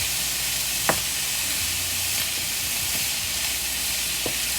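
Breakfast casserole ingredients sizzle steadily in a hot pan with a loud, close hiss, while a spoon scrapes and stirs now and then in a few sharp knocks.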